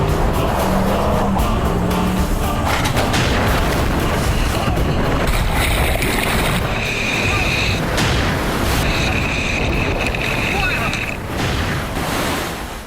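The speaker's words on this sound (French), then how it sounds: "Le plan fonctionne à la perfection et la voiture plonge le nez en avant et se renverse." A car shoved by a pickup truck plunges nose-first into water and flips over, producing a loud, continuous churning roar of splashing and rushing water with engine-like rumble throughout.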